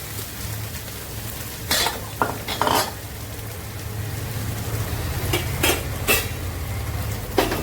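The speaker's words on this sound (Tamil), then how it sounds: "எவ்வளோ நேரமாக இந்த வெங்காயம் வேகுது பாருங்கள்" Onions sautéing in oil in a pan, a steady close sizzle with several sharp scrapes and clinks of a utensil stirring against the metal, no one speaking.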